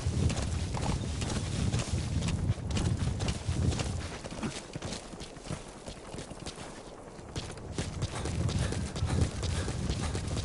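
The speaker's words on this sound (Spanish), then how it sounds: "Está adelantado ahí el caballo." Horse hooves clip-clop in Metal Gear Solid V: The Phantom Pain, a steady rhythmic trot mixed into dense, noisy game ambience, moderately loud throughout with no clear talking.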